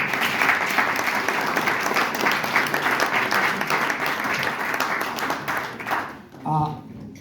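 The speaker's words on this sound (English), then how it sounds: "How about a round of applause for our panelists?" Audience applause for panelists after a Web3 event discussion, a sustained round of clapping from a room of people that tapers off near the end, followed by a brief voice.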